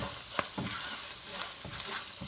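Carrot and beans fry with spices in a pan over low flame, a soft continuous sizzle with a few scraping strokes of a spatula.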